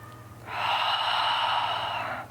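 A person takes one deep breath during a myofascial release stretch for the quads and hips, a soft, close, steady breathy rush lasting nearly two seconds, heard alone.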